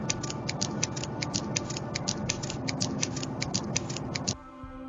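A rapid, steady ticking and clicking for the Teke Teke urban legend patters evenly for about four seconds over a dense, noisy bed, then stops abruptly.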